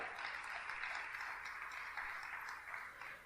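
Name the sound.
applause for the Lord in church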